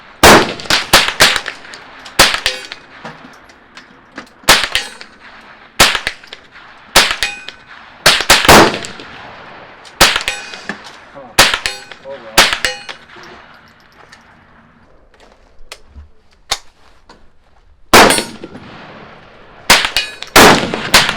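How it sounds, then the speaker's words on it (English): Rounds from a Marlin 795 rifle striking a 12-inch steel target 50 yards away: a long series of bright, ringing clangs, each paired with a crisp shot, spaced irregularly with brief pauses between volleys. "That steel target we're shooting at is 12 inches across, and it's at 50 yards."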